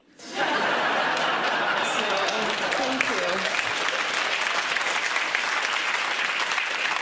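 An audience at an international New Year's comedy show bursts into loud, sustained applause mixed with chuckles and laughter, starting abruptly and holding steady for about seven seconds.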